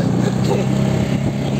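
A motorcycle engine runs steadily close by in a loud, continuous drone with a slight rumble, under some background voices.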